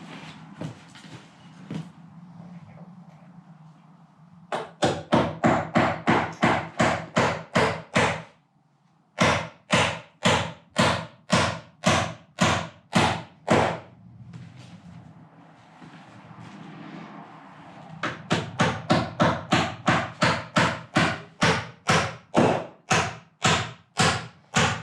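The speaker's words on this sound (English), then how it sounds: "Drive a couple 20 pennies in this corner and hook it to the rim joist." Hammer blows drive 20-penny nails into a wooden rim joist, in loud, sharp, close strikes. They come in fast rhythmic runs of about a dozen, separated by brief pauses, with a quieter shuffling stretch at the start.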